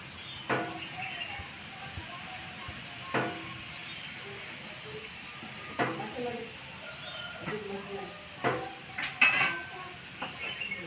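Ragi (finger millet) dosas cooking on a pan, a faint steady sizzle broken by sharp utensil clinks and scrapes every few seconds, with occasional quiet speech.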